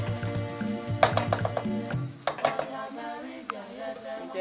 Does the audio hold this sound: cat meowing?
no